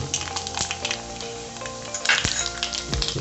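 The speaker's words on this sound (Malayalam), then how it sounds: "3 സ്പൂൺ വെളിച്ചെണ്ണ ഒഴിച്ച് ഇതിലേക്ക് നമുക്ക് കടുകിട്ട് കൊടുക്കാം." Mustard seeds sizzling and popping in about three spoonfuls of hot coconut oil for a Kerala-style pineapple pachadi, with steady frying hiss, scattered sharp crackles and a faint clink of a pan, close and continuous.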